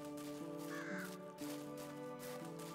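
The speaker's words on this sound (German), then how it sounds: "Das ist eine Krähe." A crow in the game Medieval Dynasty gives a few harsh caws at mid distance over a steady, humming ambient game background.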